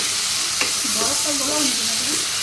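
A pan of tomatoes with turmeric powder frying with a steady sizzling hiss and light stirring, while a voice speaks faintly underneath.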